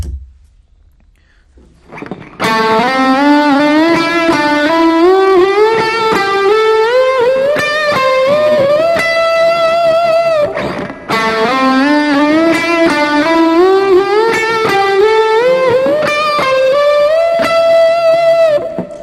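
Distorted electric guitar playing a phrase of rising string bends, loud and sustained, repeated twice with a brief pause between.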